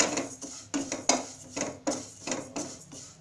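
Fennel seeds dry-roasting in a pan over a medium flame, a spoon scraping and rattling through them in a quick series of about eight rhythmic strokes, close and fairly quiet.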